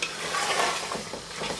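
Minced meat keema frying with yogurt in a pan on a high flame, stirred with a spoon: steady sizzle with scraping strokes, close and moderately loud, no talk.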